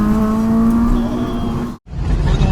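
On Hawaii's Tantalus mountain road, a Honda Accord and an S2000 are driven hard, with a loud, steady high-revving engine drone that cuts out briefly before resuming.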